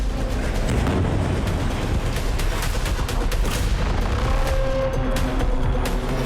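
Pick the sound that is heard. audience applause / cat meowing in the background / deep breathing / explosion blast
explosion blast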